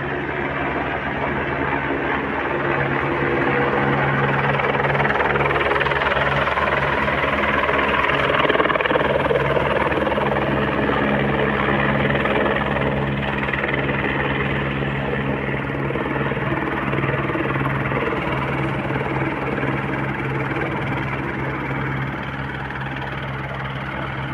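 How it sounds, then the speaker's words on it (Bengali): A passenger shuttle helicopter setting down at the Gauri Kund helipad, carrying six people per trip, with a loud, steady rotor and engine roar that stays close and continuous throughout, and no voices. "এই আরেকটি হেলিকপ্টার এলো"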